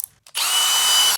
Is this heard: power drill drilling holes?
yes